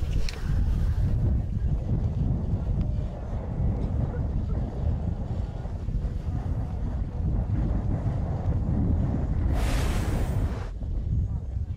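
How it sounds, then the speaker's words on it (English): Steady wind gusting across an open ski hill at Mount St. Louis during a freestyle big air competition, a continuous broadband roar buffeting the microphone, with a brief louder hiss of wind or snow near the end. "The wind's starting to die down a bit."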